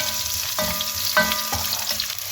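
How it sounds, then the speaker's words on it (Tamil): Onions sauté in a pan with curry leaves and dried chillies, giving a steady close sizzle and crackle with a few soft stirring scrapes, and no voices. "இந்த டைமில் வந்து நாங்கள் வெங்காயத்தை சேர்த்து வதக்கி கொள்வோம்"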